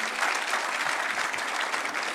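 An audience at an e-health award ceremony applauds a trophy presentation, a dense, steady burst of clapping from a crowd, heard alone without speech.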